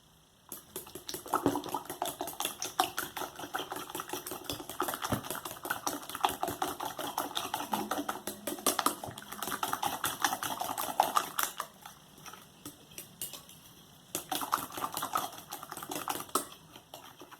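Eggs being whisked in a bowl for banana bread: rapid, steady clicking taps close by, continuing with brief pauses and then resuming.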